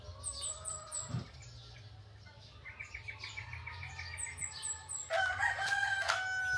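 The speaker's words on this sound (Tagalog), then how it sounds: "Ang sarap sa piling ng manok, no? Tingog ng manok ba?" A rooster crows in the distance amid chirping birds and other fowl, with a louder burst of bird calls near the end.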